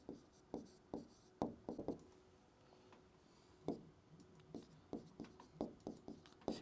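Pen or marker writing on a board during a physics lesson on vectors and scalars, heard as faint, irregular scratchy strokes and taps spread across the stretch, with no talking.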